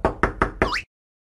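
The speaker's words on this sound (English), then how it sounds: "Someone is knocking on the door." Four quick, evenly spaced knocks on a door in the Pocoyo Friendship playset game, loud and close, with a cartoonish rising whistle-like tone on the last knock, then silence.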